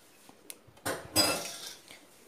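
Metal utensils clink against an OTG oven tray while litti dough balls are set out in a home kitchen: a few light taps, then two louder rattling clatters close by, with no talk.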